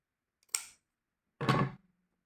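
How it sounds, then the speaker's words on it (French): Scissors cut the corners of an embroidered cross-stitch artist trading card, two separate close snips about a second apart in a quiet room. "J'ai pas pris les bons ciseaux là. Couper les angles comme ça."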